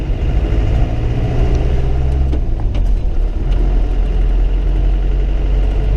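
A 1997 Land Rover Defender 90 300 TDi diesel engine runs steadily on a drive with a deep, low rumble, loud and close throughout, with no talking.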